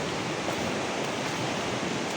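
Ocean waves break along a shore at a fishing spot, a continuous, even roar of surf with no distinct individual crashes.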